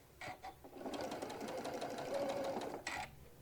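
A sewing machine stitches fabric for a hobo bag in a quick whirring run of a couple of seconds, framed by clicks and handling noises, close and fairly quiet.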